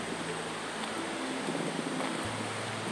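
A loud forest creek rushes far below among big and small waterfalls, heard as a steady, unbroken wash of broadband noise that fills the whole stretch with no voices.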